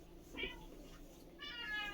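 Two short, high-pitched cat meows close by, the second drawn out a little longer, over a quiet room.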